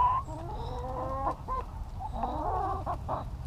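A nearby chicken clucks in short, stuttering bursts, with several quick throaty calls over a soft outdoor background.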